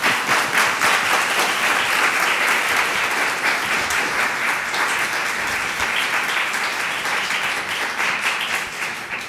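A large audience at an art college alumni talk breaks into loud, sustained applause, dense clapping that holds steady throughout and tapers slightly at the very end.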